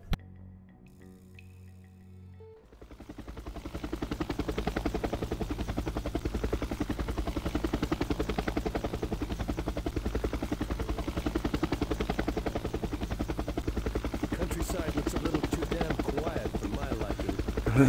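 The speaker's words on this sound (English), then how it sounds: "Get in the chopper." Helicopter in the Jagged Alliance 2 video game: after a quiet opening, a loud, steady rotor chop kicks in and holds with an even pulsing rhythm until the end.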